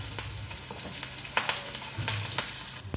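Curry leaves crackle and spit in hot tempering oil, a busy close-up frying hiss dotted with sharp pops, with no one talking.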